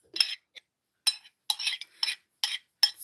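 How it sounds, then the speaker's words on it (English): A metal spoon pushes tea leaves down inside a cup, giving a run of light clinks and scrapes in irregular bursts, close and fairly quiet with no talking. "Just going to use my spoon and push the tea leaves back down into the cup."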